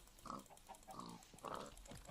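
A pig in the Minecraft video game grunts and oinks in three short bursts, moderately close and alone with no talk.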